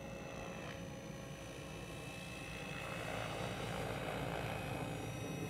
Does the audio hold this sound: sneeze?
no